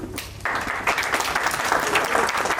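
Applause from an audience at a workshop session, starting after a brief lull and swelling into dense, sustained clapping, with some voices mixed in.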